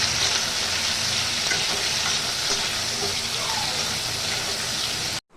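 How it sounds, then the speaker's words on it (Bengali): Fried onion sautéing with salt in a pan for chicken keema, a continuous close sizzle with stirring and scraping throughout before it cuts off abruptly. "দিয়ে দিচ্ছি এর মধ্যে পরিমাণ মতো নুন দিয়ে এবার এটাকে ভালো করে সাঁতলে নেব"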